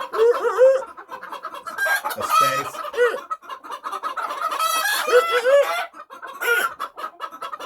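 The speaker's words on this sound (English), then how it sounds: "So their crow is always like after the third syllable," Red junglefowl rooster crowing repeatedly in several drawn-out, multi-syllable calls, fairly close and loud, with clucking from other fowl between crows and a brief spoken phrase.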